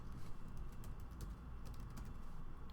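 Keys tapped on a computer keyboard to enter a file name, light irregular clicks scattered over a steady low background hum, no voices.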